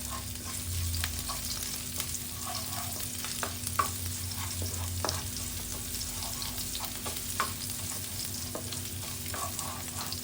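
Lotus stems and sea shrimp stir-fry in a pan, a continuous sizzle with scattered scraping and clacking of a utensil against the pan, fairly close and steady, with no voices.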